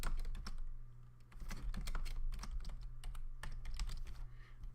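Quick bursts of keystrokes on a computer keyboard as a search is typed, close and fairly quiet, with irregular clicks and short pauses and no talk.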